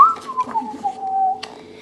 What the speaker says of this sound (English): and he whistles while he works